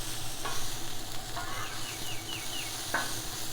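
Green beans sauté on a flat griddle with a soft, steady sizzle, interrupted by a few quick scraping stirs and flips of a metal griddle spatula, close and low-level with no voices.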